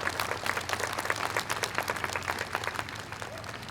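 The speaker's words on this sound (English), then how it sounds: "Give yourselves a round of applause for all being here today" A crowd at an outdoor community suicide-prevention walk applauds, brisk scattered clapping that stays fairly steady and moderately distant for a few seconds.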